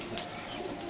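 Soft pigeon cooing drifts in at a low level, a brief murmuring call over faint background hum.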